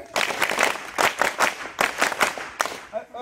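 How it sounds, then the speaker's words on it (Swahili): Secondary school students with scout leaders clap together in repeated three-beat rounds. The claps are slightly ragged and crowded, with a room-like wash between the bursts. "Ikiwa makofi matatu."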